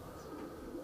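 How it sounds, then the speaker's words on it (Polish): Pigeons coo softly in a loft holding about fifty pairs of racing birds after the flying season, the low murmuring steady and faint across the short moment with no one speaking. "W tej chwili przebywa tutaj około 50 paru gołębi po sezonie lotowym."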